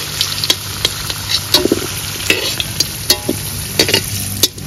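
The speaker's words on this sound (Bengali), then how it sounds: "পেঁপে ভাজা হয়ে গেছে" Papaya pieces are being fried in a pan, with a steady crackling sizzle and repeated sharp clicks of a spatula against the pan, close and moderately loud.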